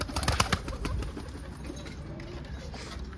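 Pet pigeons or doves cooing in soft, repeated low calls, moderately close, with a brief rustle of wing flaps near the start and faint background noise throughout.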